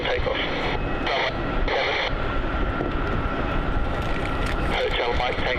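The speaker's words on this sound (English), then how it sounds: "Qantas 612, runway 27, cleared for takeoff." A Qantas airliner taking off from runway 27 at Melbourne Airport, a loud, steady engine roar filling the whole stretch, with air traffic radio chatter layered over it.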